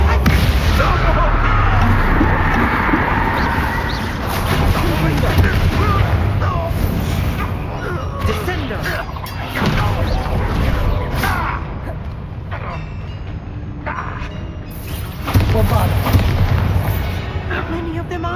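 Bombarda and Confringo spell blasts in the wizarding game Hogwarts Legacy: a long, busy run of repeated booming explosions and bursts over constant combat noise, with a voice speaking throughout.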